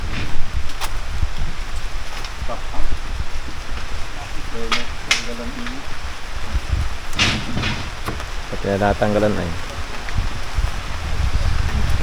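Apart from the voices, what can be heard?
heavy rain falling outdoors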